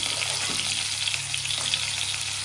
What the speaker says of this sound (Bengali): কাঁকড়াগুলো আগে ভেজে নেব